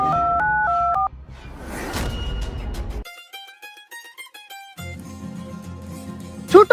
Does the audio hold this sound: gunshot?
no